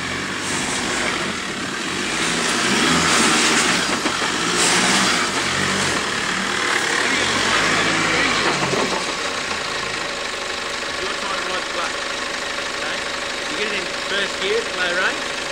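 A Nissan Patrol 4x4 engine crawls up a hill climb in first gear, a steady loud engine drone that runs for the whole stretch with a slight rise partway through.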